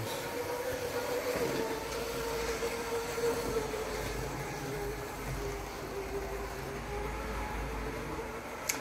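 A Triang RS52 Blue Pullman model train set runs on its track with a continuous rolling rumble and faint wheel hum, steady and fairly near, carrying on without pause for the whole stretch.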